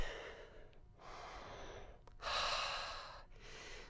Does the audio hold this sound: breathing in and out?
yes